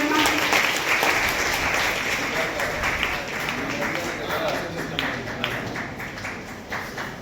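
A crowd applauds continuously at an award ceremony, a steady wash of clapping that holds for several seconds and tapers slightly toward the end.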